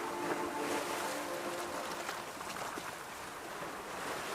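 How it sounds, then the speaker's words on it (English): Sea water lapping softly against a boat hull offshore, a faint continuous wash with gentle swells and a low hum, heard alone. "you listen to the soft, healing rhythm of the water gently lapping against the hull"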